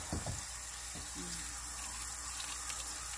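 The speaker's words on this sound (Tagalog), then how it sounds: "Basta pinadaan mo sa tubig." Tap water runs steadily into a sink while fern shoots are rinsed, a continuous soft hiss of flowing water with a few splashy knocks at the start, heard close and without talk.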